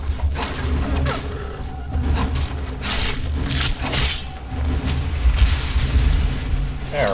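Fire spell orb explosions in Skyrim, with several bursts and crackling impacts over a rumbling background of combat.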